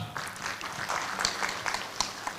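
Audience at a business ecosystem summit claps for Norfund representatives, a brief moderate round of applause with scattered sharper claps.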